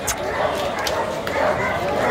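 A white German shepherd barks in short, sharp yips amid a noisy crowd at a dog market, with people talking loudly nearby throughout.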